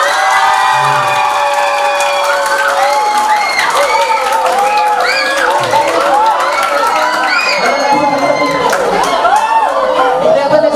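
Indoor audience at a university field-lecture event applauding and cheering steadily for about ten seconds, loud and continuous, with shouts and whoops from the crowd mixed in.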